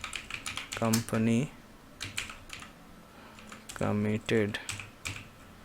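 Keys clatter on a computer keyboard while text is entered into a Microsoft Word footer, a steady close patter of taps running under a man's intermittent speech.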